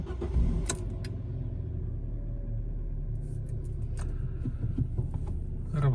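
A Fiat Punto car engine cranks and catches with a short burst near the start, then settles into a quiet, even idle rumble, heard close with a few small clicks and a brief louder bump near the end.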